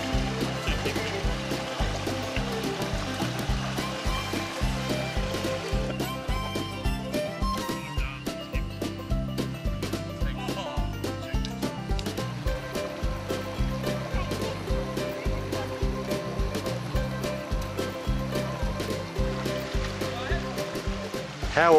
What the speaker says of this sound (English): We've got a killer waterfall over there.